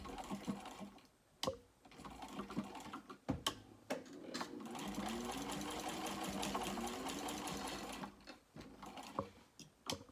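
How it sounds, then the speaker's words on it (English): A sewing machine stitches across the edge of a zipper tab on a small crossbody bag, a close, fast mechanical whir in a steady run of several seconds, framed by short clicks and handling knocks before and after. "And I'm going to sew across the edge of this with a 3/8 inch seam allowance."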